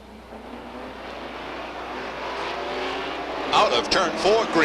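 Short-track race cars roaring off the start at Beech Ridge Motor Speedway, a loud engine drone building steadily and then surging as cars pass close, under excited race commentary.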